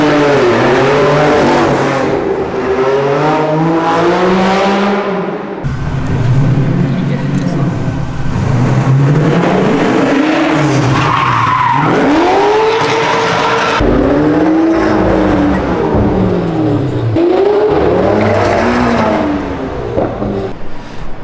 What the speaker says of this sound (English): we're about to have a F1 car rip through